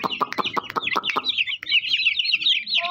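Aseel chickens and chicks let out of a cage, with a burst of close, loud clucking followed by a steady stream of high chirping and cheeping that runs on to the end.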